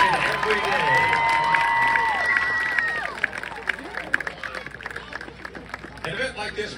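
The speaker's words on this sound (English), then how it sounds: "let's have a round of applause for the parents and guardians who proudly support their kids in this" A crowd at a marching band event cheers and applauds for the parents, loud at first and then thinning into scattered clapping and murmuring, with whistles and voices over it.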